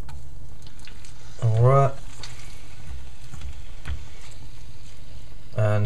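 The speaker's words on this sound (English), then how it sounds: "So we can start to add the turkey meat now" Diced turkey meat frying and being stirred in a pan with oil for a mild red pepper paste dish: a steady, moderately loud sizzle runs throughout, with a man's short spoken words breaking in twice.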